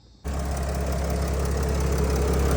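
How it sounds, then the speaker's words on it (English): Mercedes-Benz Dodge Sprinter RV (Winnebago Itasca) engine idling while it warms up, a loud, close, steady diesel-like rumble with a constant low hum that starts abruptly and holds. "now I have the vehicle cranked, and I have been shifting through the gears, letting it warm up"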